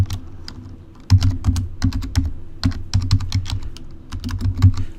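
Fast typing on a computer keyboard produces clusters of crisp, close keystroke clicks in uneven bursts, with no talking.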